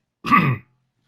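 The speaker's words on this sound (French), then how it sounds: "je tousse beaucoup." One short, throaty cough or throat-clear sounds up close, then silence.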